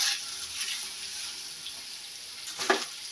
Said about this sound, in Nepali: अब हामीले यसमा खुर्सानी लगाउँछौँ है